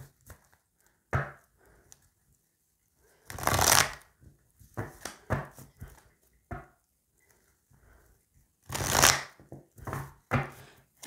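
A deck of tarot cards is shuffled and cut in two crisp, rustling bursts separated by a long pause, with scattered lighter card taps and flicks in a quiet room.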